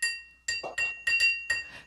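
A glass of water is struck several times, giving bright ringing clinks in an irregular series of about six taps, each ringing briefly and close, with no talk.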